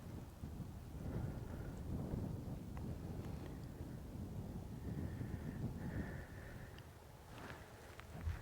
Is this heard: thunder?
yes